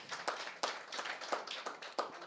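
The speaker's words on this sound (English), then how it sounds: "Let's clap for ourselves." A small group of people clap for themselves at a media roundtable in Kenya, giving a short run of light, uneven claps in a room with no talking over it.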